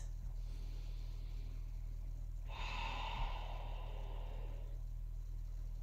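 A single long, deep exhale during yoga child's pose, a breathy rush lasting about two seconds over a steady low hum, close and quiet.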